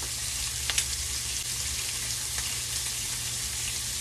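Shrimp sear in olive oil in a hot skillet, giving a steady, close sizzle and crackle with a few sharper pops, and no one speaks.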